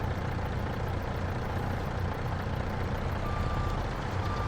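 Steady low engine rumble of a log truck in Farming Simulator 22, idling and reversing with a faint beep tone near the end, continuous and moderately loud with no talk.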